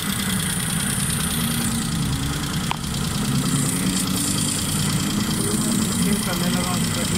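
A Suzuki Khyber car engine fitted with a new carburetor idles slowly and steadily close by, a continuous mid-pitched rumble with a faint knocking texture and one brief click partway through.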